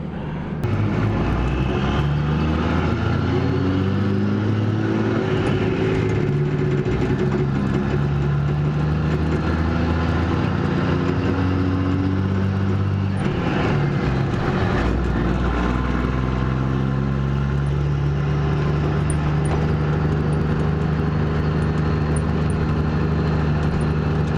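A Cummins twin-turbo diesel truck with a six-speed gearbox pulls a 10,000 lb trailer, its deep, loud engine drone climbing steadily through each gear, with turbo whine over the rumble and no talk.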